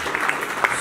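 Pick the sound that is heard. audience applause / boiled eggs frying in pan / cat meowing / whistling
audience applause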